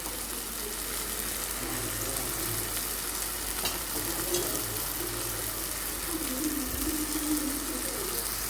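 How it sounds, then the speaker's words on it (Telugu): Capsicum and carrot frying in a pan for a bread sandwich filling, a steady low sizzle with faint stirring and scraping, moderately close with no talking. "క్యాప్సికమ్ కూడా కాస్త మగ్గాయి కాబట్టి ఇప్పుడు మనం క్యారెట్ కూడా వేసేద్దాం"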